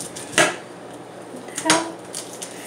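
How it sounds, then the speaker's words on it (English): A knife cuts through an onion on a board, with two sharp, close chopping knocks and a few softer taps between them. "so now I'm cutting the onion"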